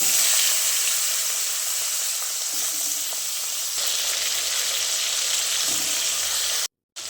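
Comfret fish frying in heated mustard oil, a loud continuous sizzle with bright hiss close to the pan, steady throughout apart from a brief silent gap near the end.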